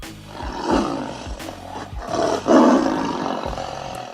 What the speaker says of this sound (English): this is what tigers sound like.